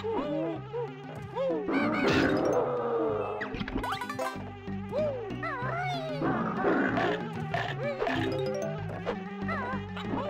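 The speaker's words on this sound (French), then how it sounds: "Il y a des abeilles." Buzzing bees in the video game Banjo-Kazooie, heard among busy game music and warbling effects that run loud and continuously throughout.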